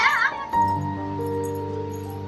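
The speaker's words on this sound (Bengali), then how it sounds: "ওই দেখ ম্যাও আসছে" A cat gives a drawn-out, tonal meow close by, following a brief higher squeak at the start, in a quiet outdoor setting.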